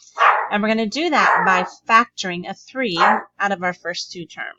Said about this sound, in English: Sorry for the dog barking in the background.